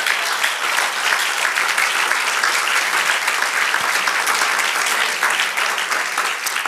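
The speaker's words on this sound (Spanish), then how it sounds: "dale un aplauso a nuestro Dios" A church congregation claps loudly and continuously in praise during a Spanish-language sermon, a dense, even sheet of applause that holds steady for several seconds.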